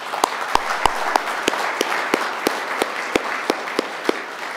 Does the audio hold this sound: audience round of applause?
yes